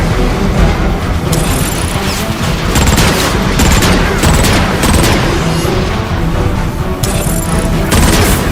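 Sustained heavy barrage of rocket fire and explosions in the video game Transformers: Fall of Cybertron, loud and continuous with rapid bursts and booms throughout.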